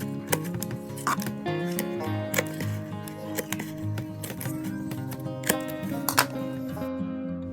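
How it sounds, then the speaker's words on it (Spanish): Scissors snip repeatedly through thin strips of material for a Dollar Tree cardboard train craft, with crisp, closely spaced cuts over steady tonal background sound. "I'm gonna go ahead and cover it using the same material, just cutting up little strips."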